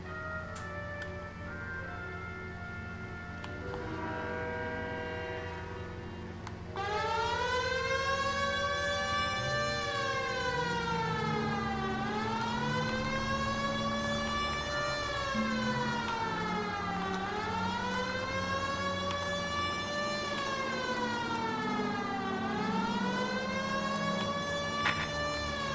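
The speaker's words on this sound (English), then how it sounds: "Use the siren?" A police car siren in L.A. Noire wails in long rising and falling sweeps, steady and fairly close, over a low engine hum; it sounds synthetic, like a game's audio.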